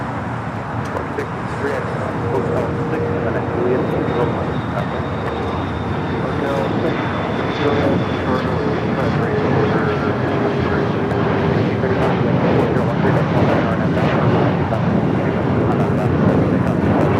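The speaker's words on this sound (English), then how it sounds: "Should be a south side takeoff" Boeing 777-300ER airliner taking off from LAX, a steady loud jet engine roar building and sustained throughout, with distant traffic noise beneath.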